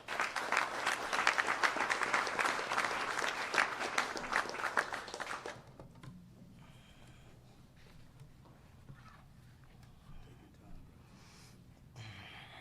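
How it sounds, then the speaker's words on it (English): Audience applause at a political rally welcoming a speaker, a dense wash of clapping for about five seconds that stops abruptly, followed by quieter room noise with faint stirring. "Clap your hands for Alonzo Waheed."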